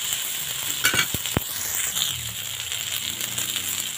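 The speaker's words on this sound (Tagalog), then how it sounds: "quick fry lang to kasi para hindi malanta yung okra" Okra quick-frying in a pan in a home kitchen, a steady close sizzle with a few sharp clicks and scrapes of stirring near the start, with no talk.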